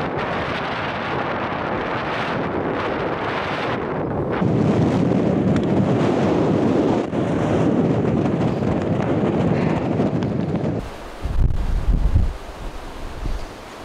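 Strong wind roars steadily into the microphone in Arjeplog during the polar night, a dense buffeting rush that swells louder midway and gusts heavily toward the end.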